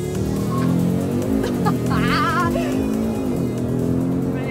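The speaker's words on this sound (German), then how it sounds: "Gleich wird Ruth erfahren, wie es ist, mit einem Vollprofi mit 400 PS über die Nordschleife kutschiert zu werden" An Audi RS3 five-cylinder with 400 hp accelerating hard around the Nordschleife, a loud steady in-car engine drone with rising and falling revs and gear changes throughout, heard from inside the cabin.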